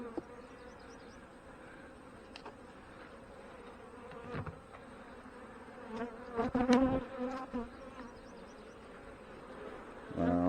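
Honey bees buzz steadily around an opened hive during an inspection in a fireweed area, a constant close drone with some louder passes and frame-handling knocks.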